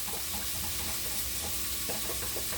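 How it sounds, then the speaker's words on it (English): Onion and garlic sizzle loudly in melted butter in a non-stick pot, a dense steady frying hiss close up with faint stirring, and no one talking. "We go ahead and add the onion and garlic."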